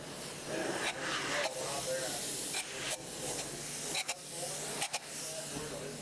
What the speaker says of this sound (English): we're spraying the foam in as thick as we can in the rafter spaces from the outside in